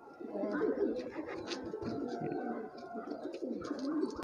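Pigeons raised for flying coo close by in a soft, continuous low warble, with faint human chatter mixed in underneath.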